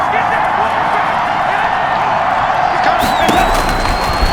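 Stadium crowd cheering in Madden 21 during a Cowboys versus Giants game, a steady roar of voices with whoops and a short whistle, under continuous play-by-play commentary.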